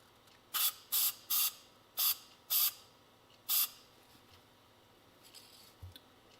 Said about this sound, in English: I'm just going to spray a bit of this paint into the lid here